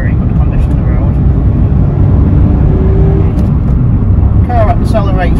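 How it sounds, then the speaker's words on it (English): 2010 Suzuki Splash 1.2L hatchback accelerating on a rough country road, a steady engine drone and road rumble heard from inside the cabin, with brief higher chirps near the end. "car accelerates really nicely."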